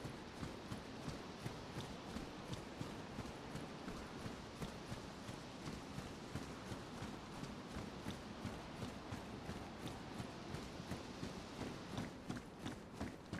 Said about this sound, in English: Heard footsteps somewhere.